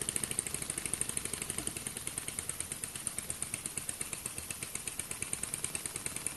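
A small homemade steam engine runs without a flywheel or base, giving off a fast, steady stream of sharp chuffing pulses with a hissy, rattling edge, close and fairly quiet throughout.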